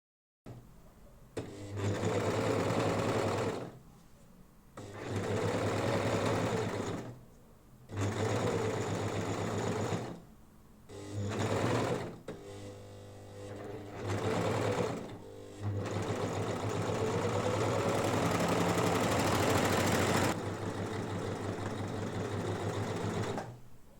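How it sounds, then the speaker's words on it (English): A serger stitches the inseam and center back seam of lined trousers, trimming excess lining, running in loud steady bursts of several seconds separated by short pauses, ending in one long continuous run. "Now it's time to serge inseam and center back seam, trimming off the excess lining."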